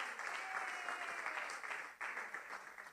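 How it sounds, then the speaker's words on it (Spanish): Congregation applauding during a Spanish-language church sermon, a dense wash of clapping with a few whoops, steady and moderately distant, dipping briefly near the end before resuming. "Dele un aplauso al Señor ahí donde está."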